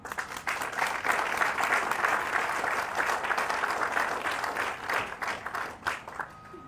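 Sustained applause from a crowd gathered at a Texas border wall construction kick-off event, dense steady clapping that holds for several seconds before thinning out, with a faint tone near the end.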